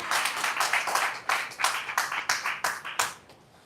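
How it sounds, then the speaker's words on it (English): Small training audience clapping for themselves at the close of a session, a modest, uneven patter of hands in quick bursts, fairly close and with no talk over it. "Can we give a big round of applause to ourselves?"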